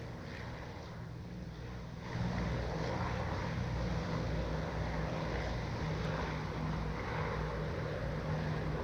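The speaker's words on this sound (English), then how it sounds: "Radial engines, hell yeah." Radial piston engines of a Lockheed Constellation in Microsoft Flight Simulator 2020 drone as a steady, broad propeller roar that swells noticeably louder about two seconds in, with no talking.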